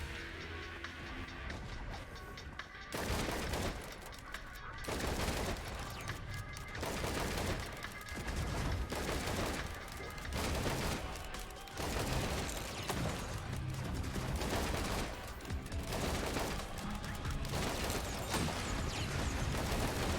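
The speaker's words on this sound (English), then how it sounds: "And we just kind of shoot and execute these guys." Video game gunfire from the Bandit character on Eclipse 1 comes as loud repeated bursts of shots in a regular rhythm, with no one talking.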